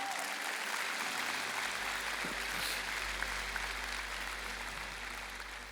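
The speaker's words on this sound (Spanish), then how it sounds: "Alguien puede darle un aplauso al Señor por eso." Congregation in a church claps steadily for several seconds, a dense wash of many hands without a break, with a low rumble underneath.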